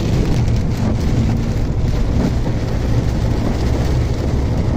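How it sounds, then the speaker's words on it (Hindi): Heavy monsoon rain pours in a steady, loud, dense roar that never lets up. No distinct thunderclap stands out and no voices are heard. "कुछ ज्यादा भारी बरसा गिरत है"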